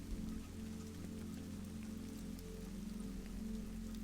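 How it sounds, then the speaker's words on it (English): Steady rain drums on a surface in a continuous, even patter with a low rumbling undertone, soft and unbroken throughout. "the rain settled back into its old steady drumming"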